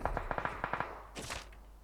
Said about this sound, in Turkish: Bak ayak sesi var.